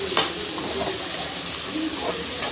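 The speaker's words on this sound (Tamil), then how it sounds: "நல்லா வதங்கணும், நல்லா வதங்கணும்." Prawn thokku masala sizzles and fries steadily in a pan, with a soft hiss and the occasional scrape of stirring, close and continuous, alone with no talk over it.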